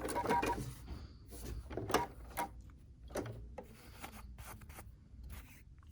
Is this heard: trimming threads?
yes